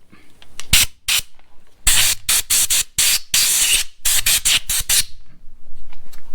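Short bursts of compressed air hiss loudly through the ports of a 1970s Tecumseh HS40 4hp engine, in about nine sharp blasts of varying length with brief pauses between them.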